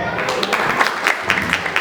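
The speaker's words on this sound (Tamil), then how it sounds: "கைத்தட்டலாமே." Brief applause from an audience at a Tamil literary stage event during the Chithirai Thiruvizha festival, heard as a short wash of clapping with scattered sharp claps.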